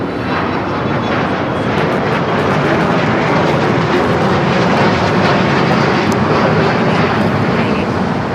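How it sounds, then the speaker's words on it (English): An Airbus A350 of China Airlines taxis toward the Tom Bradley terminal gates at Los Angeles International Airport, its jet engines giving a steady, loud broadband roar that holds evenly throughout. "The China Airlines A350 heading over to the gates of Tom Bradley"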